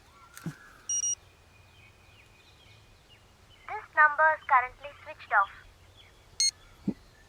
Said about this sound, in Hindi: उसे फोन लगा।